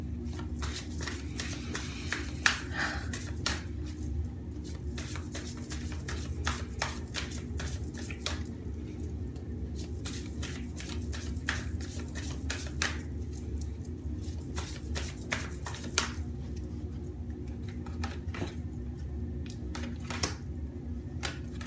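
Tarot cards are shuffled and pulled from the deck: steady soft papery riffling and snapping close by, with frequent small clicks and slaps over a low room hum, no talking.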